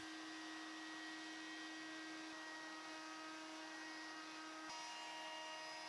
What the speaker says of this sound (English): over at the router table, I'm going to use an 1/8 inch roundover bit to ease the edges of my tabletop